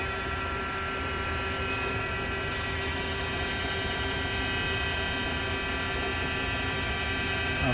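A metal lathe runs while facing off a part held in a collet, giving a steady, even mechanical hum and whine that holds constant throughout, with no talking.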